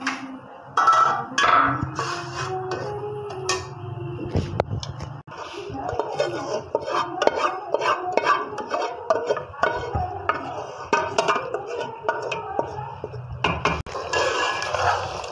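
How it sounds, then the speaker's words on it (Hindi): Marinated boiled chicken going into a pot of tomato masala: metal utensils clink and scrape against the cookware in irregular, close bursts, with a person talking through much of it. "अब हम इसे इस मसाले में डाल देंगे जो हम बना रहे थे टमाटर वाला।"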